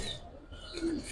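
Pigeons of an old lineage, Giribaz and high flyer breeds, giving one soft low coo amid faint background noise, brief and quiet.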